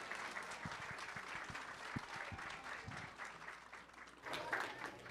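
A room full of children claps hard together to welcome a world yo-yo champion on stage, a lively and fairly distant burst of applause with scattered louder claps and crowd murmur.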